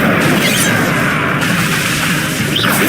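Incendio fire spell blast from Hogwarts Legacy, a dense roaring burst of flame that fills the whole moment loudly and continuously, with a few whooshing swells over the top.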